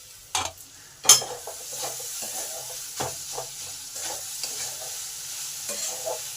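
Beetroot and carrot being stirred in a frying pan for a vegetable chop: scattered scraping and clinking strokes over a soft, steady sizzle, fairly close and moderately quiet.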